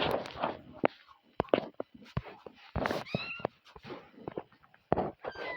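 Cartoon cats in the Toca Boca game give several short, high meows scattered among clicks and taps, moderately loud with gaps between them.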